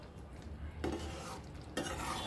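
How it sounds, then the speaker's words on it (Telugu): A spoon stirs tomato and drumstick curry with freshly added coriander in a hot pan. There are two brief scraping strokes over a faint sizzle, quiet and close, with no talking. "కొంచెం కలుపుకోవాలి."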